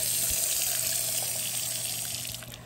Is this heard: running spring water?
yes